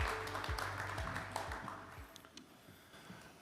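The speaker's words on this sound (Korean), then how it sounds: "뜨거운 박수로 환영해 주십시오" Applause greets a vice minister at the opening of a Korea-US industrial cooperation conference, a soft, steady patter of many hands that fades over a few seconds, with low thumps from the hall underneath.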